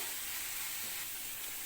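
Shredded cabbage and vegetables for momos sizzle and fry in a pan while being stirred, a faint, steady hiss with no talking.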